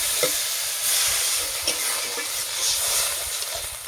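Water goes into a hot pan of fried mixed fish, including chanda, for a Bengali mango sour curry, giving a steady loud sizzle and hiss with faint scraping throughout.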